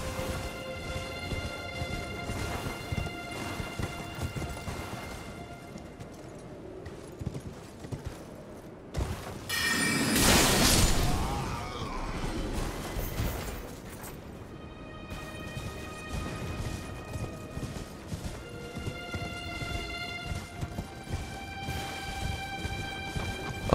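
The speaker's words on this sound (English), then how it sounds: "Oh, hey, horse." Horse hooves clip-clop in Elden Ring, soft and intermittent under game music and ambience, with a louder crash partway through.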